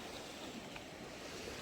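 Sea waves washing in at Uran beach near Mumbai, a steady broadband surf wash with light wind noise, fairly quiet and continuous, with no talk over it.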